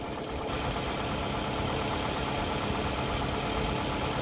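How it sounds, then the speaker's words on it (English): A car engine idling during a battery charging test, a steady, even mechanical hum held unchanged throughout, no talking. "the engine is already started"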